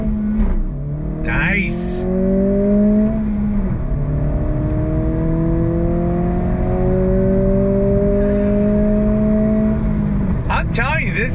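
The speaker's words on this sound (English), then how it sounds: "this time from a slow roll, on throttle, first gear, here we go." A 2023 Acura Integra pulls hard from a slow roll in first gear, engine note climbing steadily and loudly over several seconds before a shift, with a brief spoken remark near the end.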